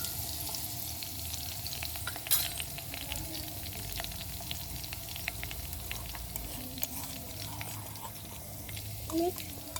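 Spring onion being stirred into a brinjal curry in a pan, a soft continuous sizzle with faint scraping and clinks of the spoon, fairly quiet and close.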